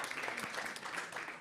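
Applause from a church congregation, a dense, even wash of clapping that stays faint and steady throughout the brief moment, with no one talking over it.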